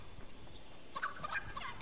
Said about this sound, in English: Oh, the chicken killing.